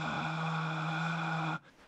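A singer's breathy vocal tone with more air escaping than pitch, one sustained hissy note held steadily for about a second and a half before cutting off, close and alone.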